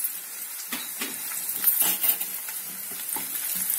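Onions frying in a pan for an eggplant and prawn curry, a steady broadband sizzle with soft scattered stirring scrapes, close and moderately quiet, no voices.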